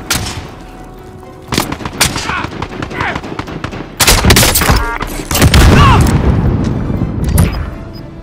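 Loud gunfire in the video game Dubski: scattered sharp shots and booming bursts that build to a dense, continuous volley, with occasional voices underneath.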